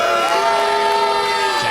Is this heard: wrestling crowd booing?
yes